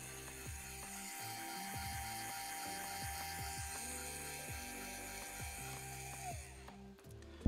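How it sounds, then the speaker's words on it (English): An Option-O Lagom Mini coffee grinder motor runs with a steady mechanical whir and rhythmic ratcheting pulses, fairly quiet and close, ending with a brief clatter. "they've updated the grinder, and this is what it sounds like"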